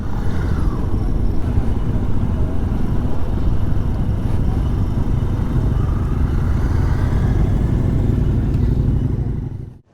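A small Benelli TNT 125 Tornado Naked motorcycle riding on an adventure trail, a loud, steady engine drone with rough low-end clatter held for about ten seconds before cutting out.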